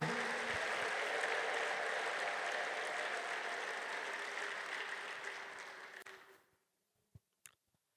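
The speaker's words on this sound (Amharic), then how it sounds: "እስቲ ሁላችሁም ግጥም ያለ ጭብጨባ ለጌታ አምጠው ሃሌሉያ።" A church congregation claps for the Lord in dense, sustained applause that gradually thins and stops, followed by a couple of faint isolated claps.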